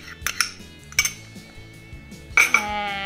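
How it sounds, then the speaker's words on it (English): A spoon clinks against a bowl while soaked raisins and goji berries are stirred into chocolate, giving a few bright, scattered taps in irregular bursts over quiet background music. "Now we just want to mix it all together, so we'll pop the raisins and the goji berries in."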